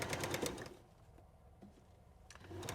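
A sewing machine stitches a seam in fabric in short rapid bursts, quiet and close, with a pause between runs of stitching.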